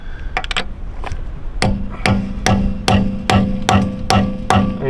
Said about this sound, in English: just tap it with a little sledgehammer